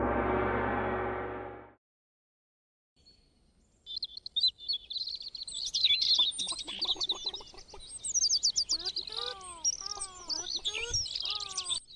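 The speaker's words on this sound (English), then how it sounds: "Ah yes, the sweet sound of incredibly loud birds." Loud, dense bird chirping and tweeting from the video game Kerbal Space Program, rapid repeated calls layered over one another, preceded by a brief burst of other game sound and a short silence.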